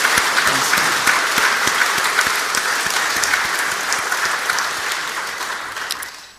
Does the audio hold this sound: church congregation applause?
yes